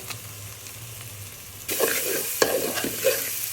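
Boiled cauliflower and cabbage stirred with ground coriander, cumin and garam masala in a hot pan, starting with a low hum, then a sudden close sizzle with spatula scrapes and clatter.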